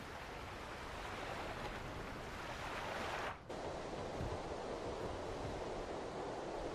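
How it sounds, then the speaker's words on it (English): Ocean waves roll in the video game Tales of Berseria as a steady, dense wash of surf. The roar dips briefly once partway through, then continues unbroken, with no voices. "we're safely on the rolling waves"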